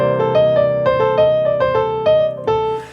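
Blues piano played in a deliberately muddy, uncoordinated way, with clustered notes and smeared chords struck in uneven bursts, loud and close with no talking.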